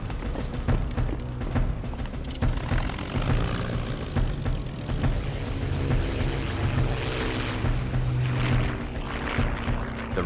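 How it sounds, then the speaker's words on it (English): Spitfire fighter engines roaring during a Battle of Britain scramble, a loud, continuous propeller-driven drone that holds steady throughout. "6 Spitfires from 74 Squadron, based at Hornchurch, are scrambled"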